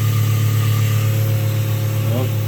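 A tractor engine runs steadily with a strong low hum, heard from inside the cab; a voice speaks briefly over the drone.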